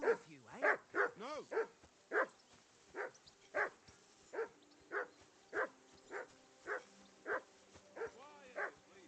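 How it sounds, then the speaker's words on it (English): A dog barks repeatedly in Kingdom Come: Deliverance, a medieval role-playing game, with loud, evenly spaced barks and a few yips close by, continuing for several seconds with no speech. "Henry, whistle at that mutt of yours to stop barking."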